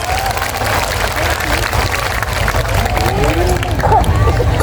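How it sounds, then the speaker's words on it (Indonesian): A large crowd at an outdoor night concert on a field in Mertoyudan, Magelang, claps and cheers for a sponsor. Loud dense applause mixes with heavy crowd babble and deep stage rumble throughout. "Tepuk tangan untuk BSI."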